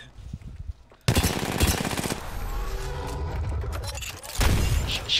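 Gunfire in Apex Legends: a sharp burst at one second opens into rapid, continuous automatic shooting with booming impacts, loud and close, then another heavy volley near the end, with no talking.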